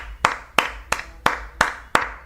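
Six sharp hand claps land at an even, unhurried pace, each one crisp and close with a short room decay and no other sound between them.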